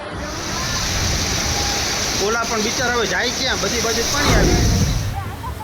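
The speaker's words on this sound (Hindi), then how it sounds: "प्रचंड रफ्तार में बह रहे पानी में बहुत कुछ बर्बाद हो गया।" Monsoon floodwater after a cloudburst rushes at great speed in a loud, continuous broadband roar, with a voice narrating over the torrent.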